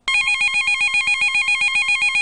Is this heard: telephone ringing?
yes